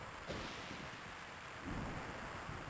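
Thunder and rain in Tactics Ogre: a constant wash of rain-like noise with low rumbling swells, faint and distant, continuing throughout.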